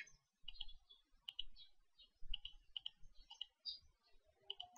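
Sparse, crisp clicks of a computer mouse as PhotoScape photo-editing software is used, coming singly and in short pairs with quiet gaps between, close and fairly faint.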